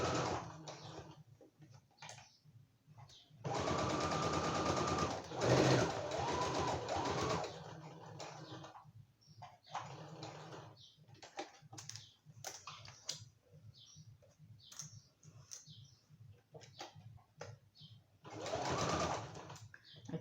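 A sewing machine stitching fabric for a notebook cover, running in bursts of fast rhythmic needle chatter with pauses, ticks and small handling sounds between runs, close and quiet.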